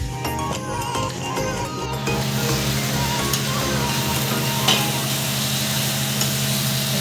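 Paneer marinated with turmeric, chilli powder and salt frying in a pan makes a dense, close sizzle that swells louder after a short start, with soft scraping as it is stirred.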